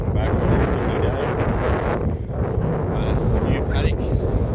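Gusty wind buffeting the microphone out on an open paddock during seeding, a heavy continuous roar and rumble throughout, loud and close, with some faint voice activity underneath.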